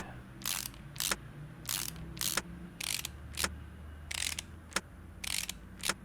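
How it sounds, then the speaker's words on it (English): Bolts being fitted onto an ABS pump in Car Mechanic Simulator 2018 produce a string of short ratcheting clicks. The bursts come in quick pairs and clusters, crisp and close, with a faint background hum and no speech. "Let's put the bolts on this thing."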